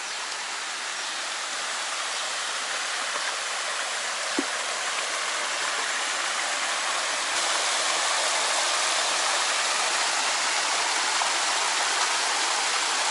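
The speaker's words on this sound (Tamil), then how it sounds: "அந்த தண்ணி போகிற சவுண்டு பாருங்க கேட்குதா" Water at the Kailasakona waterfalls rushes in a steady, dense roar, close and continuous throughout with no voices over it.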